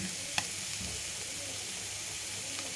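Parsnip curry cooks in oil with coriander powder and chilli, a steady low sizzle running under occasional stirring scrapes, with one sharp utensil tap near the start.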